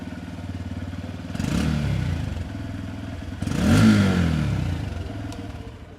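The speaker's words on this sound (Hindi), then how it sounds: "अब स्टार्ट करके साउंड सुना देता हूँ कि इसकी एग्जॉस्ट नोट कैसी है" Motorcycle with a Japanese engine idling with a smooth, slightly bassy exhaust note, then revved twice in short bursts that rise and fall back to idle, close and loud with no talking.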